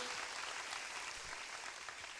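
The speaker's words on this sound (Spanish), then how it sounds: "Dale un aplauso fuerte al Señor si tú lo crees," A church congregation claps in a dense, sustained wash of applause, even in level and somewhat distant.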